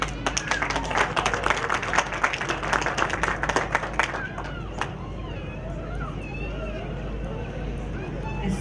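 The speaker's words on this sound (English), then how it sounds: "Let's give her a hand clap." Audience clapping at a Fiji Day 2012 celebration in Sydney, a burst of hand claps for the first half that fades out, leaving murmuring crowd noise and voices in the background.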